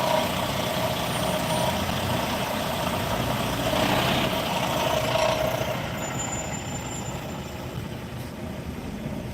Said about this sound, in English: Listen to that noisy truck next to me.